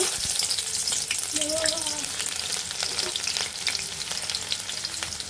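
Chopped onions hitting hot oil for mutton haleem give a loud, continuous dense sizzle with crackling throughout, and a faint brief tonal squeak rises midway, with no talking.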